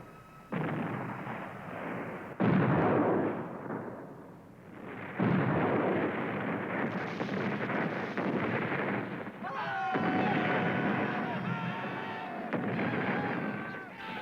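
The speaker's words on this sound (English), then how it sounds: "the Japanese pounded the Russians with huge German cannon called Osaka babies" Huge German-made siege cannon fire in the battle for Port Arthur, with heavy, rumbling artillery blasts rolling one after another, loud and sustained, while a narrator speaks over them.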